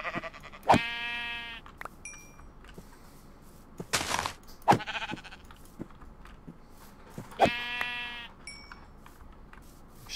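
Sheep in the Minecraft 1.14 video game bleat in three distinct wavering calls spaced a few seconds apart, loud and close, with a sharp burst of another game noise between them.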